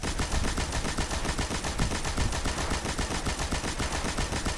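The Baron's Ambition heavy machine gun in Destiny fires a rapid, sustained burst, a dense and loud stream of rounds with an even rhythm that runs unbroken across the whole span.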